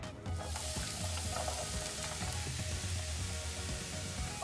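Minced garlic and chopped vegetables sizzle steadily in a hot pan for jambalaya, a dense, continuous frying crackle with occasional stirring scrapes, close and loud with no talking.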